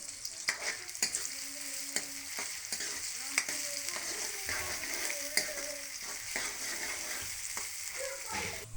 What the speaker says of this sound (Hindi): और इसमें जो प्याज है ना उनको हमने फ्राई कर लेना है।